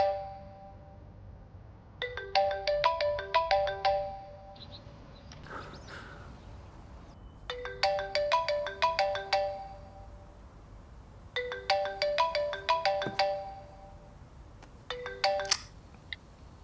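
A telephone ringtone plays a bright electronic melody in three separate bursts with short silent gaps between them. It sounds fairly close and clear indoors, with no talking over it.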